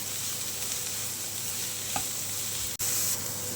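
Vegetables including capsicum for veg momos sauté over full heat in a pan, a steady loud sizzle with stirring scrapes and a sharp tap of the utensil near the end.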